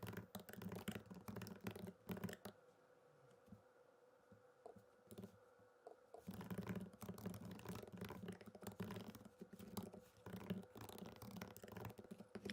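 Rapid keyboard typing with dense, uneven clicks, pausing briefly in the middle before resuming at a brisk pace.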